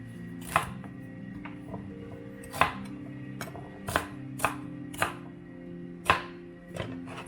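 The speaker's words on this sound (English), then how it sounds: "put them in the manual food processor" Celery stalks being chopped in a manual food processor for salmon patties, a series of sharp separate chops at an uneven pace over a steady low kitchen hum, close and moderately loud.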